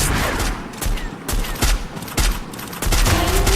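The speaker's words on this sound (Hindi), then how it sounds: "ठीक है मैं यहाँ पर लॉन्चर मारता हूँ, लॉन्चर जैसे ही होता है 876 डैमेज दूँगा यहाँ पर।" A launcher weapon fires in the Free Fire video game amid a loud, chaotic fight, with repeated sharp blasts and bursts of gunfire close up, one after another.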